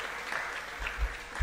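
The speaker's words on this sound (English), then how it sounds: "Let's clap for them." Audience clapping for contestants at a school quiz competition, a short steady patter of applause at moderate level with no voices over it.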